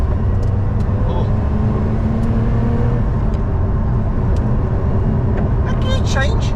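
A Lotus Emira's engine note rises and shifts through a gear change while driving, a loud continuous road-car drone with a brief rev change near the end, under a speaking voice.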